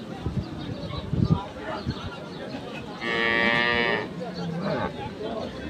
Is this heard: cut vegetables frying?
no